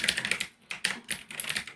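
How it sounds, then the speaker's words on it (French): A computer keyboard clicks in rapid bursts of keystrokes, close and crisp, with brief pauses between runs. "j'ai toujours mon clavier qui fait du..."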